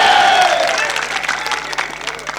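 A crowd at a Bangladeshi election campaign rally claps for film actor Dipjol: a dense, crackling wash of applause at moderate distance, loudest at the start and slowly thinning, with an amplified voice trailing off at the beginning.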